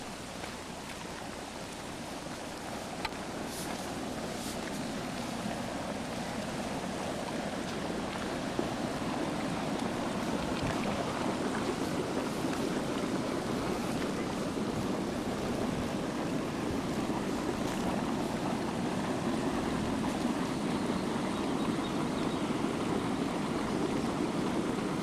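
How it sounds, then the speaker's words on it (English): Hot spring water bubbling and gurgling in a steady, unbroken wash of watery noise, close and moderately loud throughout, with no talk. "You can hear it bubbling."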